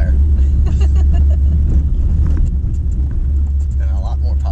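A car drives up a mountain road in Costa Rica toward Monteverde on a potholed route, with no spare tire aboard. A loud, steady low engine and road rumble runs throughout, with voices talking over it.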